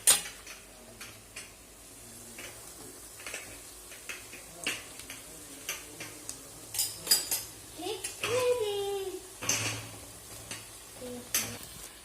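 Cooked pasta is tossed into a pan of colourful sauce and stirred, with a spoon scraping and clinking against the pan over a faint sizzle; a voice is heard briefly.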